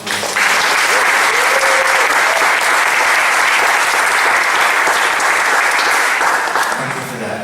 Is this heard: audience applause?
yes